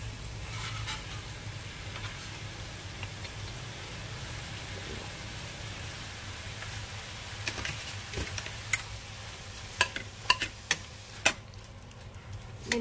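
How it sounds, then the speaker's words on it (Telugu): Tomatoes with salt and turmeric cook in a pan, giving a soft, steady sizzle under low stove hum. Toward the end a few sharp clicks or taps of a utensil stand out. "ఇందులో ఉప్పు పసుపు వేసి మగ్గించుకుంటున్నాము"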